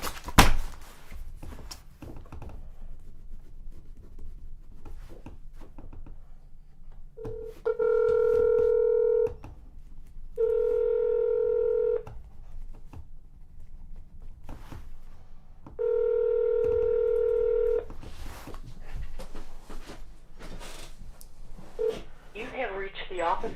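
A phone call to the Hamilton County, Ohio Prosecutor's Office, with three long, steady ringback tones spaced apart over low background noise and handling sounds.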